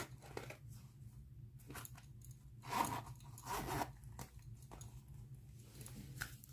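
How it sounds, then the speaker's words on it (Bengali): Zipper on a small purse pulled open and shut in a few quick rasping bursts, close up, with soft handling rustles between them. "এর ভেতরেও একটা চেন আছে"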